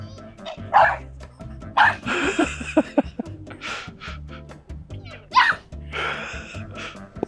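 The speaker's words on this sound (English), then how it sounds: "He's barking at the robot mower." A nine-week-old puppy yips and barks in short, high bursts, close by, with a robot lawn mower's mechanical hum underneath and a person's voice talking in between.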